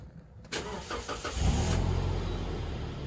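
A 2700cc Toyota Fortuner engine cranks and catches without the exhaust cut-off open, then settles into a steady low idle rumble, close and fairly loud throughout.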